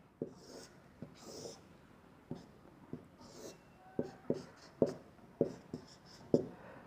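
A pen sketches a mechanism diagram on paper in a series of soft scratching strokes and taps, close and quiet, getting a little faster and sharper toward the end.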